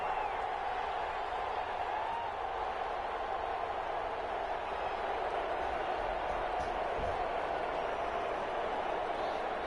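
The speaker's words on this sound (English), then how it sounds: "Everybody cheering for you." Steady crowd cheering and noise fill a stadium in an EA Sports American football video game on PS4, a continuous broad roar at even loudness throughout with no clear breaks.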